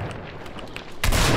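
A shotgun blast in an online shooter game, one loud burst near the end after a short stretch of quieter game noise.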